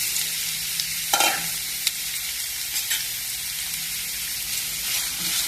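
Whole cloves, cardamom and cinnamon fry in hot oil in a pan, giving a steady close sizzle with a few light clinks of a spoon stirring.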